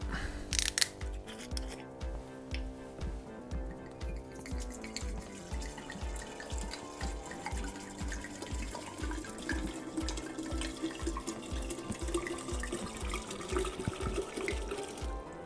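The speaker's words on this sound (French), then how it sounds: "On met le rhum" Rum being poured into a container for homemade arranged rum, a steady liquid stream that runs on with a gurgling, splashing texture, close and fairly loud, with a faint pulsing tone beneath.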